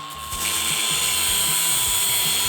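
A grinder cuts through a steel brake line for a Tacoma in a continuous, close, loud high whine with a rhythmic low pulsing beneath, no voices.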